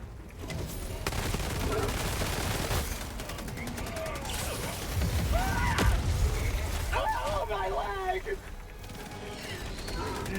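Gunfire and explosions in Helldivers, dense bursts of rapid shots and blasts rattling throughout at close range, mixed with clanking and squealing creature noises, while people talk excitedly over the fighting.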